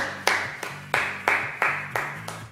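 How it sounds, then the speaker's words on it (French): Slow, isolated claps, about six single hand claps at roughly even intervals, close and sharp, with a low hum behind them rather than a full crowd. "On peut les applaudir."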